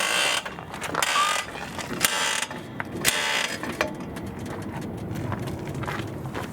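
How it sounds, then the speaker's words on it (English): A vehicle lift raises a 2019-2026 Lexus UX in a workshop, giving off a steady mechanical hum with ratchet-like clicks and a few sharper clunks throughout. "Now I will lift the vehicle up."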